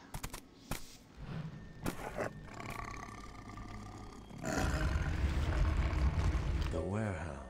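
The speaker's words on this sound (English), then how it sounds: "Wolf come charging in." In the video game Vampire: The Masquerade – Bloodlines, a werewolf gives a deep, growling roar that swells to a loud, sustained bellow amid rumbling game noise, with people talking underneath.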